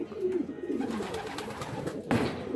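Pigeons cooing in a coop of livestock birds, soft repeated low coos running continuously through the clip at close range, with a slightly louder burst near the end.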